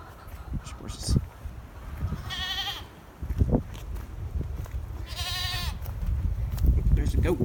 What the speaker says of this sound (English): There's a goat.